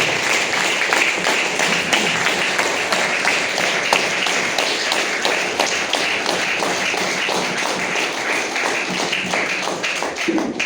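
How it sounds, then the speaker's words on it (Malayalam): A large audience at a talk gives a sustained round of dense, loud clapping that runs without a break, close and steady throughout, with no voices over it. "നല്ലൊരു കൈ കൊടുക്കാം, നല്ലൊരു കൈയടി."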